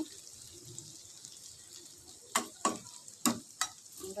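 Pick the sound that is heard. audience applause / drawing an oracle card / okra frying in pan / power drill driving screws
okra frying in pan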